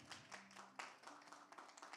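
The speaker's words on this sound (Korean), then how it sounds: "박수 부탁드립니다" Applause from a church congregation, a dense patter of many hands clapping fairly quietly and steadily throughout.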